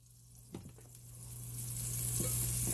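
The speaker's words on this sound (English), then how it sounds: "While that butter is melting" Butter melts with oil in a pan, a faint sizzle building steadily louder over a low hum, with a couple of soft knocks early on.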